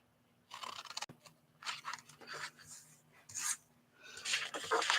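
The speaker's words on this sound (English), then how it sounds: "we're just going to just slightly cut on either side of that line" Paper being cut on either side of a line to make pockets for a mini tag journal, heard as several soft, close rasping snips in short bursts with quiet gaps between them.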